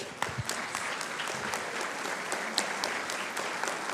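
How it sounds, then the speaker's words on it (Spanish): An audience at a panel on archives and transparency at the State of Mexico judiciary gives brief applause, a soft, distant wash of many hands clapping with a few sharper claps, no talking over it. "Démosle un aplauso, por favor."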